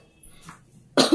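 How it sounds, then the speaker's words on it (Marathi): A woman with a climate-related cough lets out a single sharp cough at the end of a quiet indoor moment, close and fairly loud after near silence. "थोडासा मला खोकला झाला आहे क्लायमेटमुळे।"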